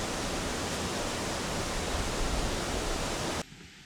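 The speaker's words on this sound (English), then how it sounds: "I can hear the water down there, but I can't see any of it." Water rushes through the rocky gorge at Watkins Glen State Park in a dense, steady roar of flowing water, loud and continuous before cutting off abruptly near the end.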